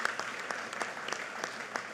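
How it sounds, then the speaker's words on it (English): Audience applause for the President at a White House event on COVID-19 vaccine requirements, steady dense clapping from a crowd at moderate distance, continuous and alone. "can you give a big round of applause to the President for joining us today?"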